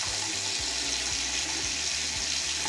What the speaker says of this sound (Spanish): El agua fluye muy bien.